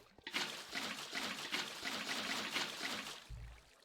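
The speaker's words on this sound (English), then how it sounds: "make two sides completely full of water and flowing down towards the center" Blocky Minecraft water flows and trickles continuously in a soft, close stream, with a short low blip near the end and no speech.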